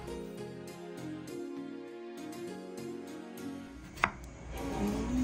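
Boiled potatoes being cut with a knife for potato croquettes, soft steady slicing against a board with one sharp knock near the end, close and alone.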